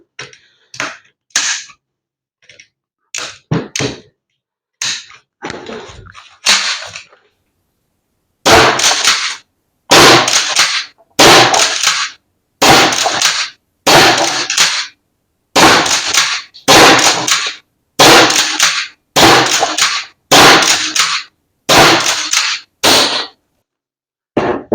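An Umarex HDX 68 pump-action airsoft shotgun, a 16-joule model, fires a long series of sharp loud cracks, scattered at first, then a steady run of shots roughly a second apart with brief silences between them.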